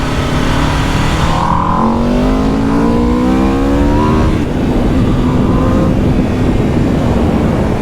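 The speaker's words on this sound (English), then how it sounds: "beautiful 65-degree V4, awesome sound from the stock exhaust" A 2021 Aprilia RSV4 with a 1099cc 65-degree V4 engine and stock exhaust revs hard, its loud, steady engine note climbing in pitch in repeated sweeps before settling back.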